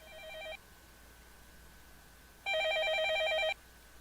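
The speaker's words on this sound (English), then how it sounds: "I doubt it's an important phone call, but I shouldn't ignore it." A telephone rings in the Fate/Stay Night visual novel game, two bursts of an electronic warbling trill, a short one at the start and a longer one about two seconds later, loud and close with quiet between.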